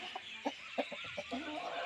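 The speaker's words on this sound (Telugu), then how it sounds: "ఇది ఒక కోడి." A chicken clucks in a short series of soft, uneven clucks, fairly close, over a faint steady background hiss.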